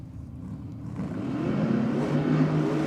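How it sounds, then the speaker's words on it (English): Ford Anglia drag car rolling out at Sydney Dragway, its engine hum rising gradually from faint to a steadier, louder drone as it moves nearer. "As the Ford Anglia comes back out."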